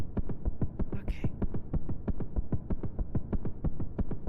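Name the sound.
heartbeat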